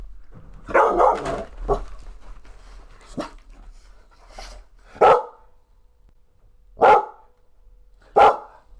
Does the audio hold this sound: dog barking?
yes